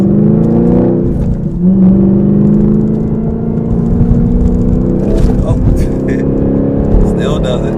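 Lowered Chevrolet Camaro ZL1 on Eibach springs rolling over a road hump, its engine droning steadily with harmonic tones that rise and dip as the car crests the bump, a few light rattles near the end.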